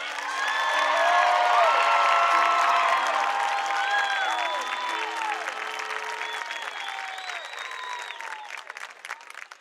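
Audience at a high school graduation ceremony applauds a row of graduates, dense sustained clapping from a large crowd with scattered whoops and cheers, peaking early and slowly thinning.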